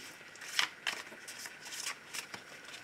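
Tarot cards being shuffled by hand, a series of quick crisp riffles and flutters at irregular intervals, close and fairly quiet, with no talk.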